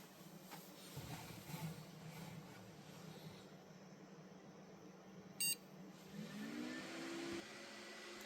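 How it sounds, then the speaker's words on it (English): A single short, sharp POST beep from a Windows XP gaming PC with an EVGA GTX 570 graphics card booting, standing out clearly above the steady whir of fans. "We got a beep for the post"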